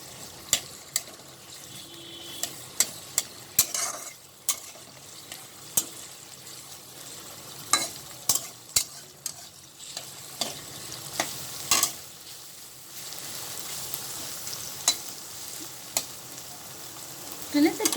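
Green chilies and spring onion greens sizzle steadily in a hot pan for restaurant-style chicken chow mein, broken by sharp clinks and scrapes of a spatula stirring against the metal.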